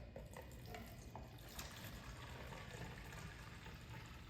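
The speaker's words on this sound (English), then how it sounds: "we're just gonna fill this all the way up to the top, to the fill line, which is 32 ounces" Distilled water pours into a 32-ounce spray bottle while mixing a PPF solution, a faint, continuous splashing trickle that stays soft and steady throughout.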